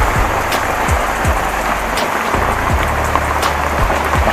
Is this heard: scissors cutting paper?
no